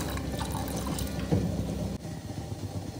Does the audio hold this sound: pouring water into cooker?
yes